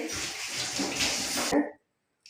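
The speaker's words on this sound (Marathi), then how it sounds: "आता ही कोथिंबीर मी धुवून घेते" Coriander leaves being washed under running water, a close, steady rush and splash of water for about a second and a half, then a brief silence and a faint final splash.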